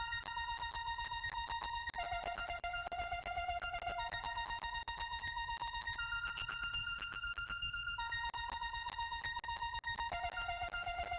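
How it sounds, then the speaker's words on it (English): A bright synthesizer arpeggio cycles rapidly through repeating notes in a steady pulsing rhythm, shifting pitch every couple of seconds, fairly quiet and with no voices. "A little ARP I made."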